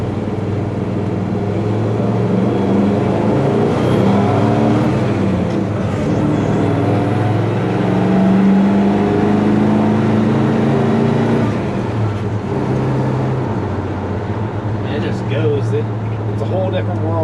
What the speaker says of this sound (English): It purrs like a kitten.